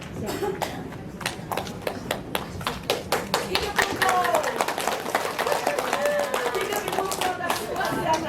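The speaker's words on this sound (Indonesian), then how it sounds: "Sekali lagi berikan aplaus yang luar biasa untuk Ibu." Applause for a female junior high school teacher at SMP N 1 Beo in the Talaud Islands: a steady stream of sharp, fairly close hand claps that continues for several seconds with a slight swell midway.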